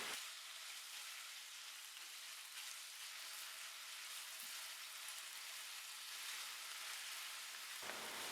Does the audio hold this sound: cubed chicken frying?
yes